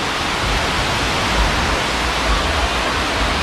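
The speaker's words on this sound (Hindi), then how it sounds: "आपको सुनाई दे रहा है पानी का आवाज़" Steady, loud rushing monsoon water roars continuously like a nearby waterfall or fast stream at Tamhini Ghat, with a deep low rumble underneath.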